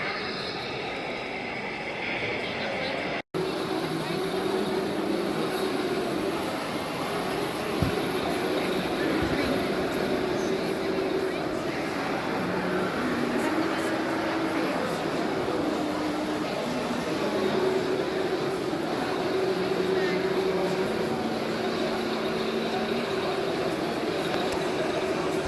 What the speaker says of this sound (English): there's the small train going under again while we wait